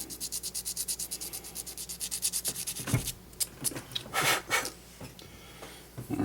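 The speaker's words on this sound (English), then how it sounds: "once you get about finished sanding, it should be pretty flush" Close, quiet sanding of the plastic lip on a lighted arrow nock for an Easton Axis arrow, with steady rhythmic back-and-forth rubbing strokes followed by a few irregular scrapes and taps.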